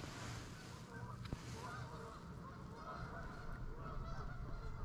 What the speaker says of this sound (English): All those geese, man.